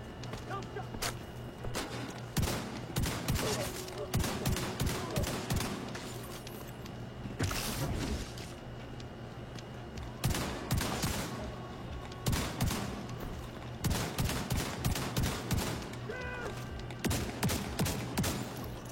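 Double shotguns firing in a video game, dense repeated sharp blasts in irregular clusters over a constant low hum, loud and close throughout.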